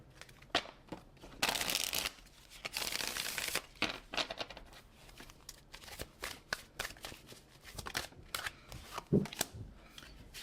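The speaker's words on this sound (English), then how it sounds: "we're gonna do one more shuffle here." Tarot cards are shuffled by hand up close, with bursts of riffling and slapping, crisp papery flutters coming in uneven waves over several seconds.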